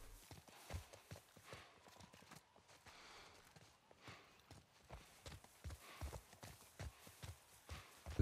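A horse in the video game The Last of Us Part I walks with irregular clip-clop hoofbeats, soft and fairly close, a quiet uneven rhythm of hard knocks with no talk over it.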